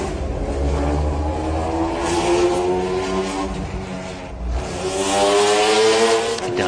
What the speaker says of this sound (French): Ici nous sommes avec la Corvette Callaway de Jelinski